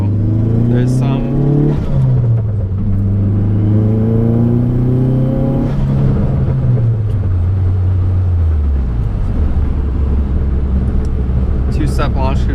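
A V6 SRT4 engine revs hard and climbs under two-step launch control, a loud, close rumble with rising and falling pitch sweeps, while a person talks over it throughout.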